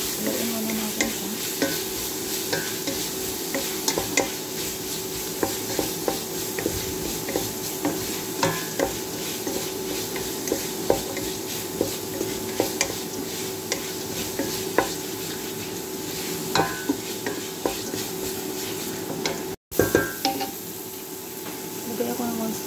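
Food frying in a pan with paprika while being stirred, a continuous sizzle broken by frequent scraping and tapping strokes, with a brief dropout near the end.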